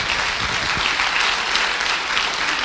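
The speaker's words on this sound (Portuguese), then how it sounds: "com um grande aplauso ao Senhor" Dense, steady applause from a virtual church service congregation, a continuous wash of many hands clapping with no pauses, fairly loud throughout.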